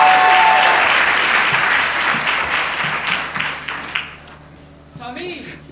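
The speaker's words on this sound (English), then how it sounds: "Please join me in giving a big round of applause to the Jackson Douglas Cluster Teachers of the Year." Warm audience applause at an awards banquet honouring teachers of the year, loud dense clapping that thins and fades out, followed by a brief voice and some room noise at the end.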